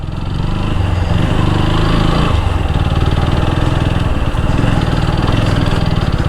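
A motorbike engine idles loud and close near Shankarpasha mosque in Habiganj, Bangladesh, running as a steady, continuous chugging drone with a brief dip partway through.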